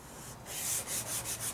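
Fingers rubbing charcoal into a drawing on paper, a close, soft, broad scratchy hiss that swells into several short back-and-forth strokes, with no talking.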